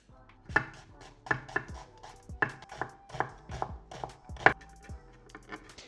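A knife chops food on a board in quick, uneven strokes, each cut a crisp close knock, with no talking.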